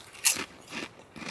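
Big-cut dill pickle potato chips crunched up close outdoors on a rainy car-camping trip, three short crisp bites about half a second apart, the first loudest, with no talking.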